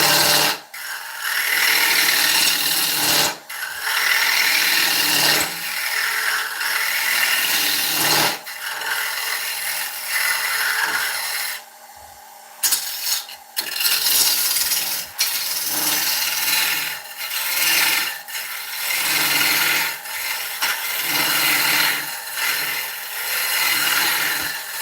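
A lathe tool trims the foot of a spalted beech bowl, giving a loud, continuous rasping scrape of gouge on wood with a few brief pauses and one quieter stretch midway.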